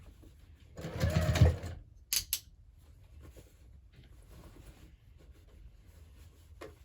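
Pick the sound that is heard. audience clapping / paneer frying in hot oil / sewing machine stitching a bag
sewing machine stitching a bag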